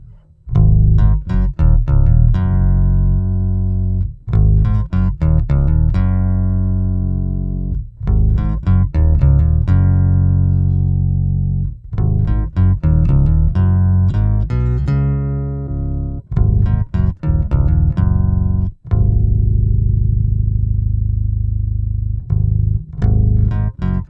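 Deep bass notes lowered an octave by a pitch shifter pedal in vintage mode, played in short phrases, thick and somewhat warbly, with gaps between runs and no speech.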